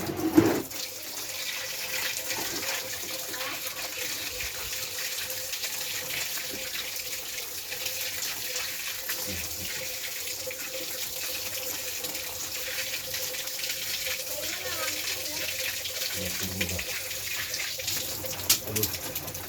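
A tap runs steadily into a sink while a cleaned fish is washed, a continuous close splashing stream with light handling noises now and then.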